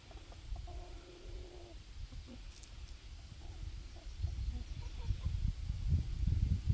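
Quiet, scattered clucks from nearby chickens over low rustling and scratching, growing busier toward the end.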